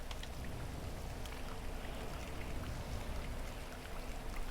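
Steady rain during a drive in the video game GTA 5 Enhanced, a dense, continuous hiss and patter with a low rumble underneath, constant and fairly close, with no voices.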